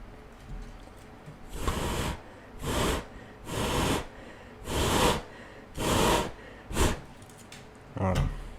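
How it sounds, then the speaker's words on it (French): Breath blown in repeated strong puffs to dry isopropyl alcohol on a PS5 motherboard during HDMI port repair, seven close, airy gusts spaced about a second apart with brief quiet between them. "Attendre que déjà l'alcool isopropylique sèche. Pour le faire sécher, c'est très simple. Hein. Il suffit de souffler."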